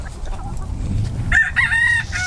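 A rooster crows loudly and close in a barnyard, a strained drawn-out call near the end, preceded by soft low clucking and shuffling from a mixed flock of laying hens.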